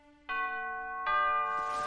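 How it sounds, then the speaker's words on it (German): A two-tone ding-dong doorbell rings in a German radio play on a late-night estate, the clear chime tones sounding one after the other, close and alone without any voices. "Wer klingelt denn noch um diese Zeit?"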